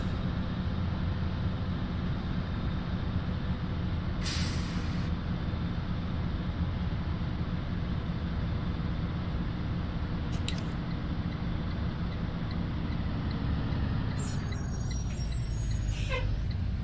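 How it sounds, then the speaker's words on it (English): A bus driving on the road heard from inside, a steady loud low engine and road rumble throughout, with a few brief hisses and squeaks over it and no talk. "you can hear the beautiful sounds of the bus"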